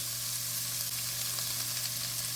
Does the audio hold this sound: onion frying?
yes